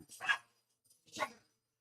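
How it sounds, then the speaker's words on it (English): Two sharp dog barks, close by, separated by a short pause, with quiet in between. "The dog's barking."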